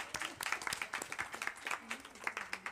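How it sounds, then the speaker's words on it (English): Audience clapping for a group of girls at a film festival table talk, a brisk, steady patter of hands from a small crowd, fairly faint and sustained, with voices mixed in. "Let's clap for these girls."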